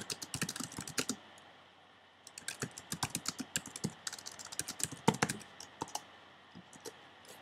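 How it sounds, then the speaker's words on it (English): A computer keyboard clatters as someone types a question into a text message marketing tool. Quick bursts of close keystrokes are broken by a short pause. "I'm simply going to type up my question here."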